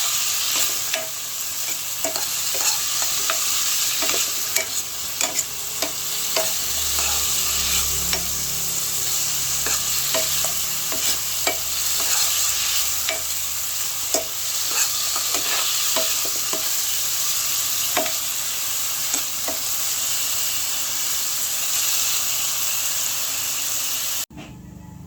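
Potatoes frying in a pan, stirred now and then, with a steady sizzling hiss and scattered scraping clicks of the utensil throughout, fairly close.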